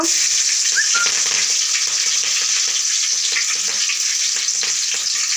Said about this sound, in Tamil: இப்போ நான் கடுகு ஆட் பண்ணிக்கிறேன். பச்சை மிளகா,